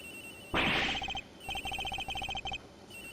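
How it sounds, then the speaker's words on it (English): A telephone rings in the Ace Attorney Investigations video game: a loud electronic trill that bursts on, pauses, then repeats in a rapid pulsing pattern of short rings. It sounds close and clear, with no voices. "It's phone. It's ringing from somewhere, sir."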